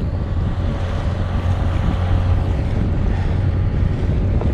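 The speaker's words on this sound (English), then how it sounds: "Let's go one pass over the coral reef just to make sure the engine's working well." Boat engine running as the boat passes over a coral reef near a deserted island, a steady low drone mixed with heavy wind buffeting and splashing water, loud and continuous.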